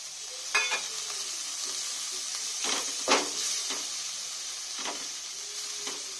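Spices and chopped tomato sizzling steadily in a pan for a Bengali fish curry, a constant close hiss broken by a few sharp stirring scrapes.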